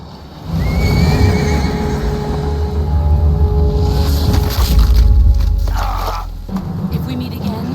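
A horse whinnies in the video game Metal Gear Solid Delta. The loud cry is half-buried in a dense, rumbling mix of game sound effects and voices.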